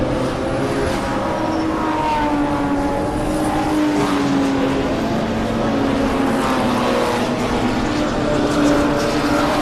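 BMW race cars circulate at Zwartkops, the leader lapping slower Class E and D back markers. Engines drone loudly and continuously, overlapping as cars pass close by, with no pause over several seconds.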